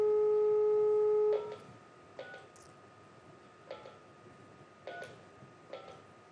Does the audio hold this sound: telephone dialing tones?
yes